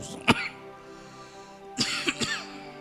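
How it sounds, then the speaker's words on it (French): A few sharp coughs, one early and then a cluster of two or three about a second and a half later, with a throat-clearing quality, close and alone. "Excusez, j'ai sérieusement la toux."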